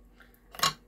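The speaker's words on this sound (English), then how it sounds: "I'm going to grab some scissors" A pair of scissors is picked up and handled during paper crafting of a gift bag, giving one short, close rustling clatter in an otherwise quiet moment.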